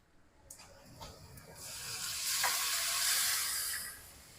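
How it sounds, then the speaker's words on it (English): Milk whisked into a simmering browned flour paste for creamed chipped beef, rising into a steady hissing sizzle with soft stirring scrapes, close and continuous. "And I'm going to get a whisk and start whisking."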